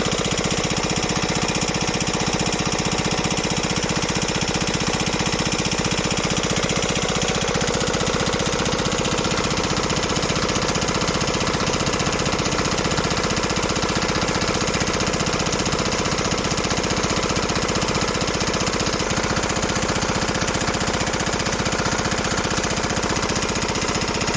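A motor pump sits by a pond drawing water, running continuously with a loud, steady mid-pitched engine drone and rapid knocking pulse, unchanging throughout with no talking.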